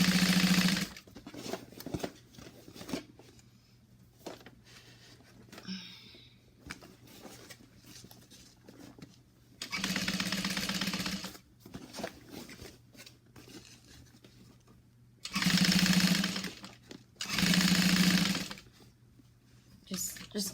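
Sewing machine stitching a fabric bag from its exterior side, several loud bursts of fast motor whirring, one long run and two short ones, with quieter handling noise between them.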